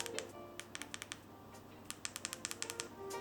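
A series of crisp, close button clicks on a Tribit PocketGO portable speaker, some single and some in quick runs, sharp and fairly loud against a quiet background.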